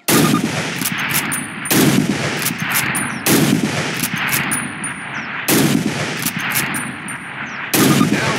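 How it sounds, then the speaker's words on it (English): Springfield rifle shots in a World War II video game, with loud sharp reports coming roughly every second and a half, each followed by a short echoing tail and a metallic rattle. "Grab up a Springfield rifle from the table, switching it for your carbine. Turn to the left, move to the fence, and fire 2 rounds at your target."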